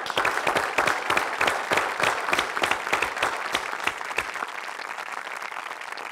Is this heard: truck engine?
no